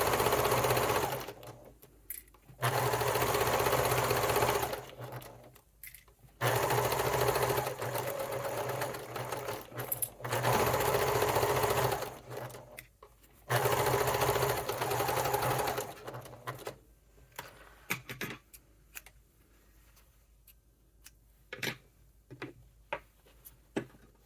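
A sewing machine stitches a Christmas stocking in several long, loud, steady runs separated by pauses, then ends in a string of short stop-start bursts.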